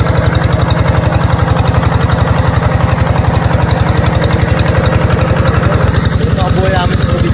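Engine-driven water pump drawing river water in a rural province, a loud, close, rapid regular chugging throb held steady throughout, with voices faintly beneath it.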